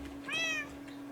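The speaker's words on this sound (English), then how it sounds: "And that's my cat right there." Single short meow from a pet cat in the video game Minecraft, clear and up front over a faint steady background hum.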